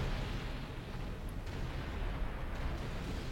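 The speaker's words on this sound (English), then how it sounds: "how big was that explosion to take down the entire building that big?" A huge explosion bringing down an entire building in a film: a dense, sustained low rumble of blast and collapse that stays loud for the whole stretch, with no voices.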